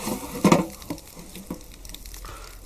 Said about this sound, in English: Next thing we need in the pan, red wine. You can see how hot that pan's got.